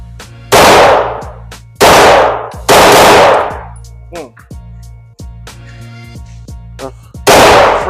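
.500 Magnum revolver fired at a range, four huge booming shots with long decaying tails, spaced a second or more apart, with voices and clinks in the gaps.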